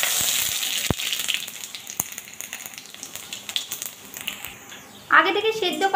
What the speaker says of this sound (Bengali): কড়াইয়ের মধ্যে দিয়ে দেবো শুকনো লঙ্কা,